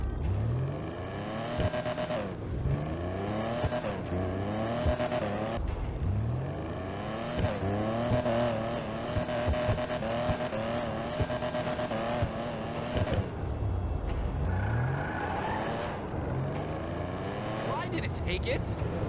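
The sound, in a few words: sports car engine from a video game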